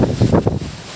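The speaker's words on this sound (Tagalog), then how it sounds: "yung hampas ng hangin" Strong wind gusts battering trees during heavy rain and wind, a loud rumbling buffet of air across the microphone in several quick surges that fade out toward the end.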